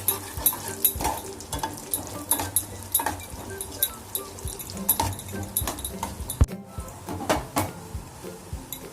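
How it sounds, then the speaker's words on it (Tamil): Raisins and cashews fry in hot fat for paruppu payasam, a soft steady sizzle under repeated clinks and scrapes of a spoon stirring in the pan. "நம்ம இந்த திராட்சையும் முந்திரியும் நம்ம போட்டுக்கலாம் அதுலேயே"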